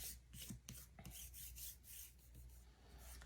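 Soft rubbing and scraping of a hand smoothing a chalk stencil onto a coffee sign, close and faint, with a few light taps and no talking.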